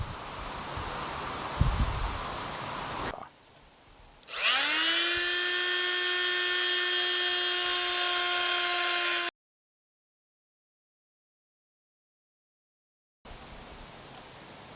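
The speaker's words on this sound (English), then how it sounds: "I'm going to take this socket and I'm going to cut it right about there" A plastic socket is cut with a power tool, giving a loud, close, sustained high whine that runs steadily for several seconds and then stops abruptly into silence.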